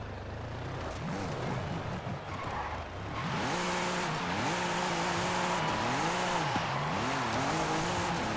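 Audi RS5 drifting in Forza Horizon, a loud engine note rising and falling in pitch through repeated revs and shifts, with tire squeal hissing underneath, steady and close throughout.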